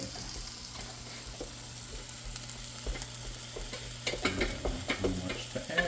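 Food being stirred in a sizzling frying pan, a steady hiss of frying with scraping and tapping of the utensil growing louder toward the end.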